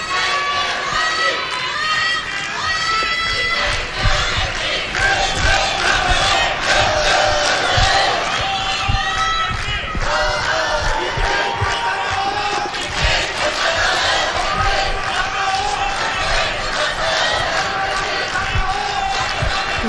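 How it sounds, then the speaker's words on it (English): At a judo Grand Slam contest in Osaka, a big crowd roars with loud sustained cheering and shouting, including a strong cheering section, a dense wall of voices that holds steady throughout. "Loud cheering from the crowd."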